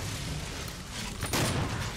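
Gunfire in the video game Doom, played on a community map on Xbox One X: a single loud blast bursts out of steady background game noise.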